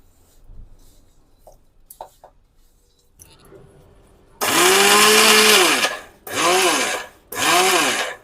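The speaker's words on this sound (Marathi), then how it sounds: "छान असं मीडियम बारीक करायचं जास्त बारीक करायचं नाही" A mixer grinder grinds dry fruits to a medium-fine texture in three loud whirring bursts, the first about one and a half seconds long and the next two shorter, after faint quiet handling sounds.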